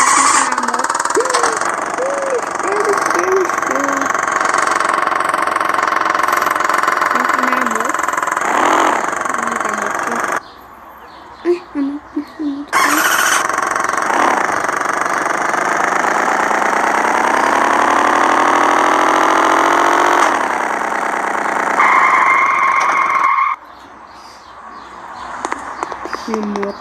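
A motorcycle engine idles steadily and close outdoors for most of the stretch, with its tone wavering slightly, short breaks in the sound, and voices talking over parts of it.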